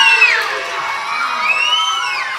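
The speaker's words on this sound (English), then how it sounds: "Give me a wonderful night cheer if you are ready" A church audience, many of them children, cheers and whoops together in a sustained burst. The shouting is loud and fills the room, holds steady, then swells again toward the end.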